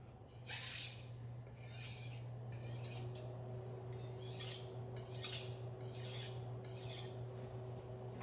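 A kitchen knife being sharpened on a stone to hone a new edge, heard as a close series of rhythmic rasping strokes, about eight evenly spaced passes over a faint steady hum.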